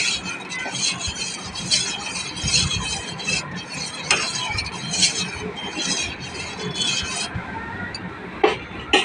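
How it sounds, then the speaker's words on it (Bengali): A spoon stirs curd into barely warm milk in a pot to set homemade sour yogurt. The scraping and swishing are soft and continuous, with a few sharp clinks against the vessel. "একদম সামান্য গরম আছে এরকম গরমেই আমি দইটা ঢেলে দেব"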